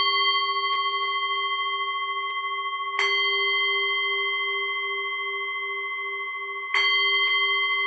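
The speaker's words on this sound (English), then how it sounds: "I will ring the bell, and we can start off with our meditation" A meditation bell is struck three times, each strike leaving a long, pure, shimmering tone that sustains and slowly decays between strikes; clear and close, with no talking.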